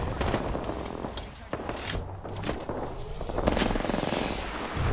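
Rapid gunfire in Apex Legends during a tournament fight, with a chaotic stream of sharp crackling shots layered over constant combat noise, loud and close throughout.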